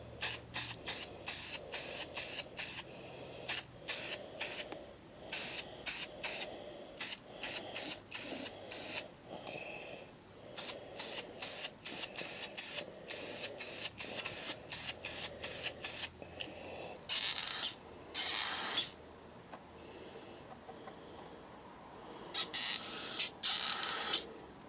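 Rust-Oleum black spray paint hissing from a can in short repeated bursts while stencil art is made, sharp close sprays with brief pauses between them and a few longer blasts near the end.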